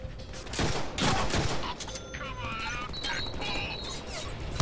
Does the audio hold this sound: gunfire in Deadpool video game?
yes